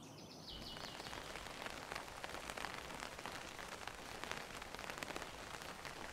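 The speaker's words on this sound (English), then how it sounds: "The rain in this valley can be so relentless, you know, day after day after day." Steady rain falls in a valley, a dense continuous patter on surfaces with scattered sharper drops, and a bird faintly chirps at the start.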